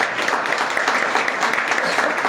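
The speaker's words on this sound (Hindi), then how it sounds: "ताली बजाइए," A seminar audience in Bhawani Mandi claps in a dense, even wash of many hands, steady and fairly loud throughout, with no voices standing out.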